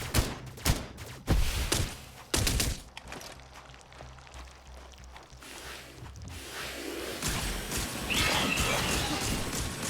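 Overkill weapon firing in the sci-fi isometric shooter Cygnus Enterprises: a cluster of sharp, loud blasts in the first few seconds, then a sustained low droning rumble and rising noisy hiss with scattered impacts, no talk.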